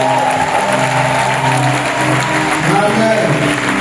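A church congregation claps in sustained applause during a prayer service, dense and loud, with voices and singing mixed in throughout.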